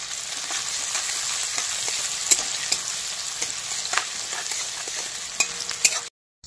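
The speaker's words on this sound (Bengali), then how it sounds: "পেঁয়াজটা একটু লাল লাল করে ভেজে নিচ্ছি।" Onions fry in a pan with a constant bright hiss and scattered ticks and clinks of stirring, then cut abruptly to silence.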